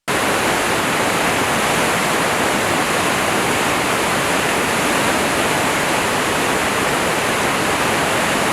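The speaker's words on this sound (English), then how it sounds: "On the border between Zambia and Zimbabwe lies one of the largest waterfalls on Earth." Victoria Falls on the Zambia–Zimbabwe border, a vast waterfall, roars as a steady, loud, dense wash of falling water with no break or variation.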